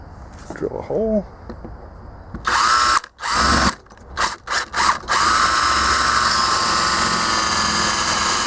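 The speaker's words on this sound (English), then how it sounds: "Drill a hole." A power drill bores a hole during a zero-turn mower engine swap, starting in short bursts and stutters before settling into a steady, loud, continuous whine; a brief voice is heard early on.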